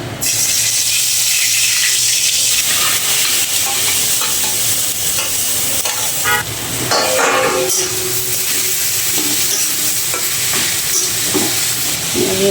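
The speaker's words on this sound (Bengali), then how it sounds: "সাদা তেল দিয়ে আমরা কালিজিরা দিব" Nigella seeds frying in hot vegetable oil with bay leaf and chili, a loud steady close sizzle punctuated by scraping stirs and light clinks of a utensil against the pan.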